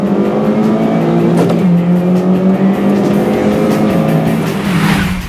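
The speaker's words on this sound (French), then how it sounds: "Le 2 litres suralimenté est aussi une belle réussite" A Honda Civic Type R with a 2-litre turbocharged engine revving hard. The engine tone is loud and sustained and climbs and falls, with a brief sharper burst partway through. No one speaks.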